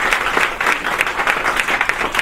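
A crowd applauds steadily, many hands clapping in a dense, continuous patter at moderate loudness with no talking.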